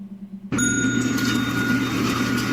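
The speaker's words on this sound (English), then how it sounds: "They ring the bell." A service bell is struck once at a counter, a bright sudden ding with long ringing tones that sustain steadily to the end over a low background hum.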